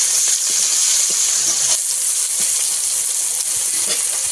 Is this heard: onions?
yes